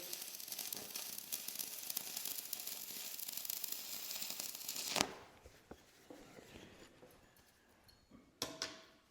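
Stick welding with 6013 rods, an 1/8 inch rod running a bit cold: close crackling, sizzling arc for about five seconds, then quieter ticking and a couple of brief crackles.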